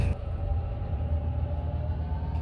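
Resort View Furusato train pulling out of Shinonoi Station on the Shinonoi Line, a steady low rumble and rolling wheel noise heard from inside the carriage, continuous throughout.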